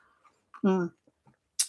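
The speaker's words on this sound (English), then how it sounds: "Sorry, that's my dog. I've got 3 collies." A collie dog gives a single short bark-like vocal close by, surrounded by small scuffs and quiet noises in an otherwise silent indoor room.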